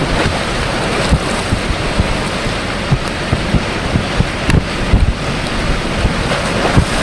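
Strong storm wind buffets a flexible EZ Dock floating on choppy water, with waves slapping and surf churning continuously. A loud, steady roar of wind noise dominates, with no voices.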